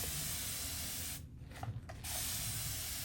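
Steady hiss of a spray bottle misting continuously onto fabric for rust dyeing, with a short break of a few mechanical trigger clicks before the spraying resumes.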